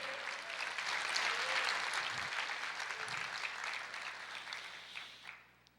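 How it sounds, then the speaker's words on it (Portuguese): A church congregation applauds together, a moderately distant, even wash of clapping that tapers off near the end. "Você pode aplaudir o Senhor?"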